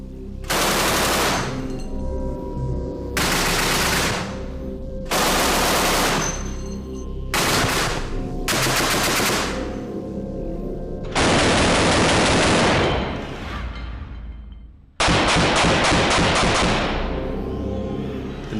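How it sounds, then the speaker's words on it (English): A Messerschmitt 20mm aircraft cannon fires at a simulated Spitfire aluminum wing in loud, sustained bursts of rapid automatic fire, each several seconds long with short gaps between, close and overpowering with no voices. "Shoehorned into the Messerschmitt's tiny wings was this, the terrifying 20mm cannon."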